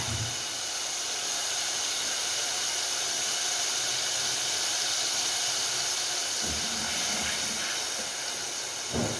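Chickpea curry masala sizzles steadily in a pan, a continuous close hiss of frying with no voices.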